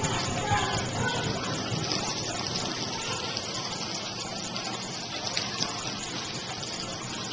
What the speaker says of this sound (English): This side here, you can see the water coming down.